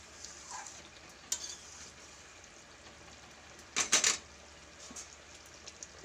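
A spoon slowly stirring a vegetable curry in a pan, soft quiet scraping and faint sizzling with a few louder clinks of the utensil against the pan, no talking.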